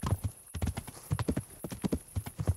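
Horse hooves in the medieval video game Kingdom Come: Deliverance, ridden at night by torchlight: a steady, rhythmic clip-clop of galloping hoofbeats, close and unbroken, with no speech.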